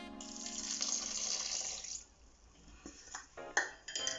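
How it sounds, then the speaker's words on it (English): Half a cup of water streams into carrot cake batter made with coconut flour and coconut sugar, a brief splashing pour followed by faint clinks of a bowl and utensils. "Half a cup of water poured in"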